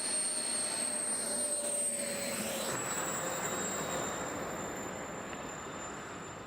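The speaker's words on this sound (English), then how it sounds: "If we can fly planes this big with a remote, why don't we just fly big planes with a remote?" A large remote-controlled airplane flies past with a steady, loud, high-pitched engine whine and rushing roar that shifts slightly in pitch as it passes, then slowly fades.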